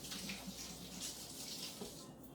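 Tap water running into a sink while fingers are rinsed under it in a kitchen, a faint, steady splashing hiss lasting a couple of seconds.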